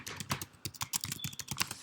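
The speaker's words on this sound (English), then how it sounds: "And in here I'm typing" Computer keyboard typing in a quiet room, a run of quick irregular clicks and key taps close to the listener with no voices.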